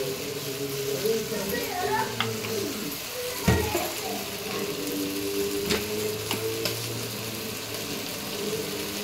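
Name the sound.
stirring chicken curry with chopped tomatoes in pan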